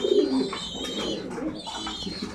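Pigeons coo steadily inside a coop during molting season, low throaty calls overlapping in a close, continuous murmur with faint higher chirps.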